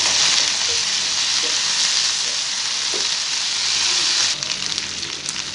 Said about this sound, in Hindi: अब हम इसे अच्छे से फ्राई कर लेंगे